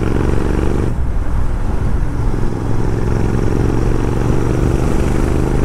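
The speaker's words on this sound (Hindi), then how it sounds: "इसके साउंड बहुत अलग है, बहुत बहुत हद से ज़्यादा अलग है यार GT का" A Royal Enfield Continental GT 650 motorcycle engine runs loud and close, a steady low rumble with a brief dip in the first second, then a continuous throbbing drone with road noise.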